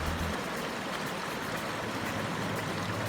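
A small indoor water feature trickling over rocks, giving a steady, close, full wash of running water that continues evenly throughout, with no voices.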